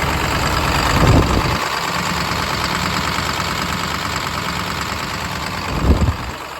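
A Ford 7.3L diesel idles with two injectors unplugged, a rough steady rumble with an uneven knock, close and continuous, with a couple of brief louder bumps.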